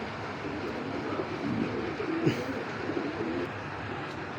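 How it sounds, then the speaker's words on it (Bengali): Racing-bloodline pigeons kept as a breeding pair give soft, low cooing that rises and falls for a few seconds over a steady background hum. "ডাইরেক্ট ডোরিমনের ব্লাড লাইনের কবুতর"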